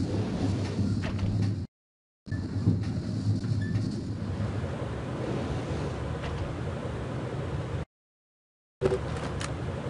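Rumbling train interior ambience from Splinter Cell Pandora Tomorrow's Paris–Nice mission, a steady low rolling drone with faint rattles, cut by two short dropouts of silence, with no speech.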